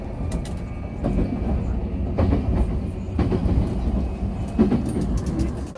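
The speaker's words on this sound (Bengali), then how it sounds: "শিবুয়া স্টেশন থেকে ট্রেন ধরে আমরা চলে যাই আখিয়াবাড়া স্টেশন।" A Tokyo commuter train runs between Shibuya and Akihabara, heard from inside as a steady low rumble and rattle with faint rhythmic clicks of the wheels, continuous and without talk.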